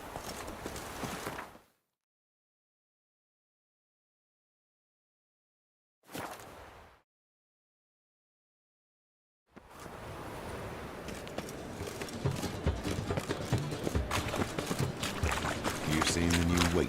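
Roach, the horse in The Witcher 3, clip-clopping in bursts separated by silence, then a longer dense stretch of hooves under other game noise and talk.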